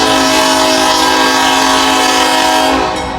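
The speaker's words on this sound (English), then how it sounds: "All right, we got a slow moving railroad west." A slow-moving Norfolk Southern mixed manifest freight train passes in the rain at Lockland, its horn blaring loud and close in one sustained blast over the rumble before it cuts off.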